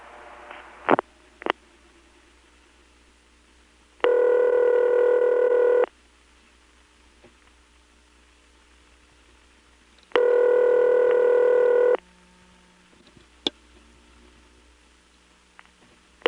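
A call placed through a senderized XY step-by-step exchange in Lexington, South Carolina: sharp clicks of dialing, then two long, even tone bursts separated by quiet line hum, with a few more scattered clicks.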